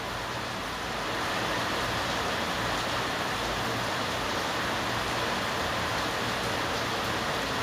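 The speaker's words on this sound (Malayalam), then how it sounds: "ഇവിടെ ഭയങ്കര മഴയാണ്." Heavy rain pours down as a loud, continuous broadband hiss that starts a little softer, then holds steady and close, with no voices.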